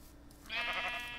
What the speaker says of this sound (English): there's one more sheep here.